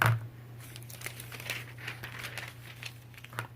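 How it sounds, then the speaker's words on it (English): Sheets of metallic foil for laminator foiling being handled and cut, giving a soft crinkling and rustling with light scattered crackles, close and fairly quiet, no talking. "I'm just going to cut a couple sheets of foil."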